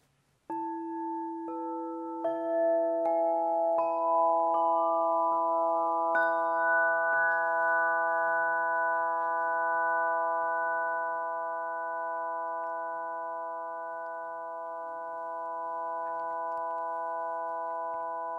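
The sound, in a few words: Fabien Maman's sound tubes tuned to overtone scale, played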